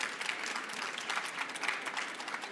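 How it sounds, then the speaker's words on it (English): Audience applause at an AI-versus-human debate event: a steady, even wash of many hands clapping, moderately quiet and continuous with no talk over it. "Round of applause."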